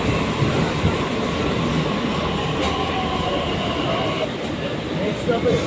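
A Delhi Metro train pulls into a station with a loud, steady rumble and rail clatter that carries on throughout, close and continuous.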